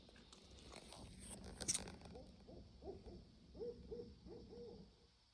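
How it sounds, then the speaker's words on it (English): An owl hoots softly several times in a quiet home near a tiny house, faint, low-pitched calls that repeat in a loose rhythm over a steady hiss of background noise and small handling sounds. "I was hoping the owl would know its cue"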